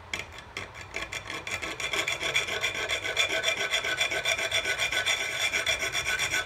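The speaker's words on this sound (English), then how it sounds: "I sure do appreciate how easy this file is going through here now that it's tempered" A tempered steel file cuts notches into a knife blank in quick, even rhythmic strokes, a close and steady rasping scrape that builds slightly in loudness.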